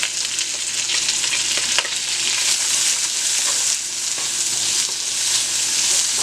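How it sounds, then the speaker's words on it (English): Onions sizzle loudly in hot oil in a pan, with a dense, continuous crackle and occasional scrapes and clacks as they are stirred, close up and without talk. "So now what I'm going to do is add to a little oil I have here my onions."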